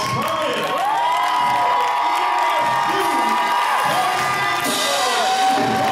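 A gospel concert audience claps and cheers for the host choir, a loud continuous roar of clapping, whoops and shouting voices filling a hall.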